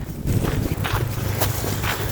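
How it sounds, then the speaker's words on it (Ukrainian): Strong wind buffets the microphone in steady low-frequency gusts, with rumbling roar throughout and no one speaking. "Сьогодні дуже сильний вітер."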